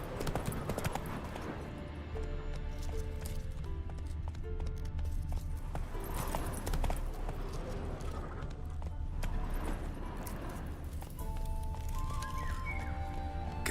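A horse gallops in the video game The Witcher 3 Wild Hunt, hooves beating in a steady clip-clop rhythm throughout, loud and close, with game music and ambient tones underneath.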